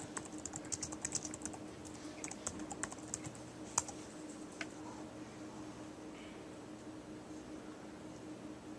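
Steady typing on a computer keyboard while entering a search, a continuous patter of fairly faint key clicks with a few louder taps, heard alone without talk.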